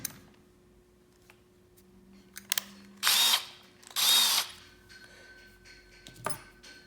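A power drill with its clutch set drives a screw in two short, loud whirring bursts of about half a second each, close by, with quiet clicks and handling sounds before and after.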